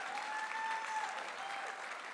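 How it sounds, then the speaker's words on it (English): Conference audience applause at ArabCon 2025, a fairly quiet, continuous patter of clapping heard from a distance, with a faint tonal whine running briefly through it. "a huge applause line for Bernie Sanders, the most successful"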